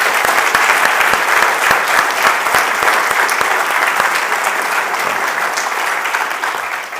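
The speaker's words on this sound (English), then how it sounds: "please give them applause for their participation." An audience at an ERDC homecoming and 25th anniversary celebration gives sustained applause, many hands clapping thickly with distinct sharp claps standing out, the applause tapering gently near the end.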